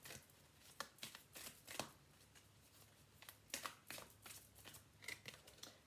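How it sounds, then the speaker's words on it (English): Oracle cards shuffled up close in a quick series of crisp riffling bursts and papery flutters, some louder than others, with no one talking. "Let's give these a good shuffle too. I think I'm due for some new oracle cards too."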